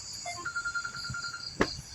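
A mobile phone rings with a short rising melodic tone and then a sustained electronic note, set against steady background hiss and a sharp knock near the end.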